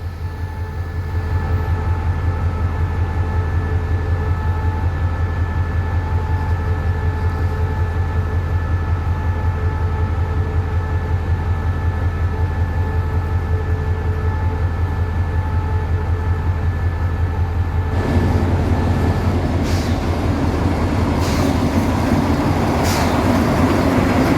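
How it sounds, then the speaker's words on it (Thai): A diesel locomotive idles loudly and steadily at Hua Lamphong railway station in Bangkok in the evening, with a heavy low engine drone that grows rougher and noisier in the last few seconds. "บรรยากาศแสงยามเย็น ๆ ที่สถานีกรุงเทพหัวลำโพง"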